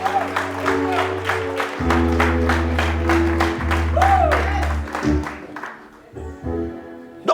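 A church congregation bursts into sustained applause and cheering for the pastor, dense clapping filling the space steadily over music before thinning out near the end.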